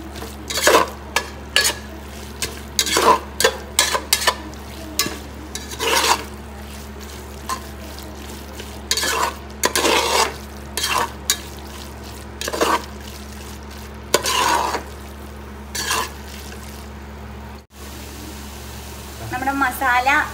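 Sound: stirring masala and onions frying in a pan

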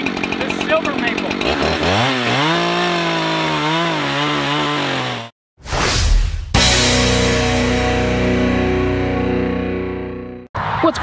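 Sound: Alaskan chainsaw mill cutting silver maple log

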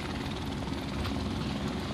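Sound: helicopter overhead in Modern Warfare Remastered video game

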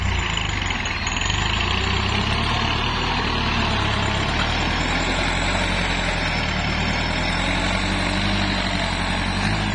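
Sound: hired farm tractor engine running

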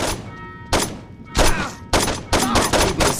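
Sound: gunfire in the video game Saints Row 2

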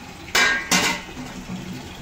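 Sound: filling water into pots and setting down vessels

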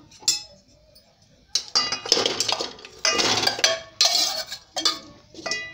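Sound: jaggery being put into a large cooking pot

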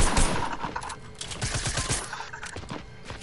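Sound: SMG gunfire in a PS4 video game

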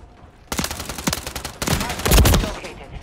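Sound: gunfire, shooting from the hip, Modern Warfare 3 video game

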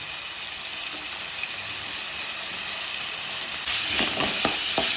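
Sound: onions frying in pan for carrot biryani

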